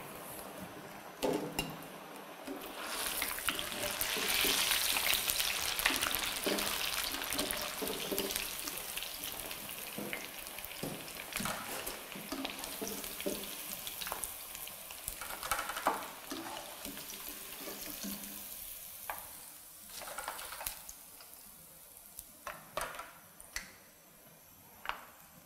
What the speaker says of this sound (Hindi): दरमियानी आंच पे हम इसको फ्राई करेंगे। इस तरह से चम्मच से हम बार बार इसको हिलाते भी रहेंगे